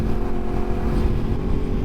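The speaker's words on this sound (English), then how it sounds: "there's a motorcycle, bro" A 2023 Yamaha MT-10 motorcycle rides on Louisiana back roads, its engine a loud, steady roar with constant wind rumble up close, no clear pass-by swell.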